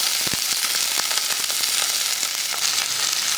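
Green chilies and tomato frying in hot oil for a Murugan idli shop-style coriander chutney, a loud, close, steady sizzle with small crackles and pops throughout.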